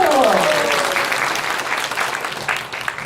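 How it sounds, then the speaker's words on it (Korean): An audience claps loudly at a church rally in Seoul, the applause swelling at once and then thinning out over about three seconds, with a few voices mixed in. "박수!"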